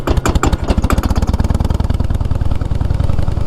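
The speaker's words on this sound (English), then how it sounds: "test out the brakes, test out the exhaust, see how they sound" A motorcycle engine with a newly fitted exhaust runs loud and close, its steady rapid low thumping pulses rising slightly in pace, with no voices over it.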